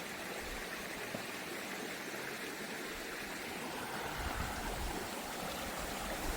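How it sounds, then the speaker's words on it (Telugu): Water from a hillside canal pours steadily down the slope in a continuous, full rush, close and fairly loud with no voices. "ఈ గుట్ట మీద నుంచి 360 రోజులు వాటర్ ఈ విధంగానే వస్తుందంట"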